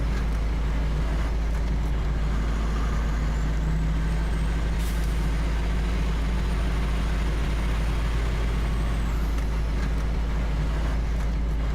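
Kenworth truck in a farming video game pulling in, with a heavy low diesel rumble that runs steadily and loudly throughout and a faint hiss of air brakes near the middle, without voices.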